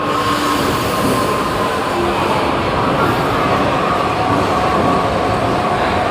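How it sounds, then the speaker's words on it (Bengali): Steady loud rumble of a metro train in motion, heard from inside the car, with constant wheel and track noise and no voices. "আমরা মেট্রোতে উঠে গেছি।"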